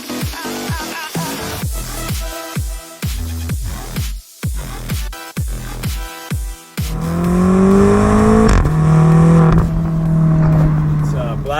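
A 2017 BMW X5M engine revs while driving, with a series of sharp throttle blips and gear changes followed by a sustained loud, rising engine roar, and someone talking over it.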